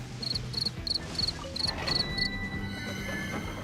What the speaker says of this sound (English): it was just some crickets that broke in.